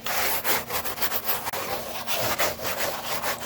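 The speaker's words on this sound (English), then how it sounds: "I'm just gonna use an old board to scrape this" An old wooden board scrapes repeatedly across a G-body Monte Carlo headliner board, cleaning off the leftover material in rough, rasping back-and-forth strokes, loud and close with no talking.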